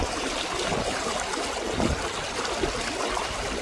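Strong river current rushes over slippery rocks at a Gabaldon crossing, a steady, dense close-up wash of flowing water with no talk.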